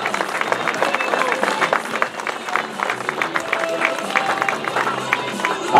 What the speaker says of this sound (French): On applaudit bien fort Clément Venturini, Francis Mouret et David Menu